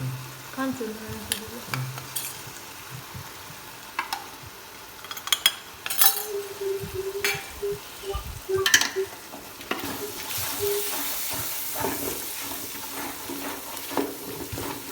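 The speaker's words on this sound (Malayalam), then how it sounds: "ബിരിയാണി മസാല ഒരു 4 ടേബിൾ സ്പൂൺ ഉണ്ട്, അതിനെ മിക്സ് ആക്കാം." Biryani masala stirred into a frying gravy of onions and tomato in oil for Ambur-style biryani, with a soft sizzle, intermittent spoon clinks and scrapes against the pot, and the frying growing louder and steadier toward the end.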